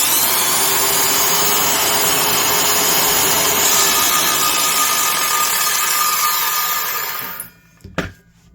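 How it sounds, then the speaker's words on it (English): A Makita 5740NB 7-1/4 inch circular saw, greased gearbox and back bearing, running free without cutting, with a steady loud whine that winds down near the end and ends in a couple of clunks. "even though the saw runs at a reasonable audio level"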